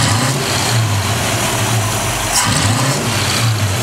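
A 1957 Chevrolet Bel Air with a 283 V8 idles loud and close after a tune-up of its carburetor and timing, a steady throbbing rumble with slight rises in revs and no talk.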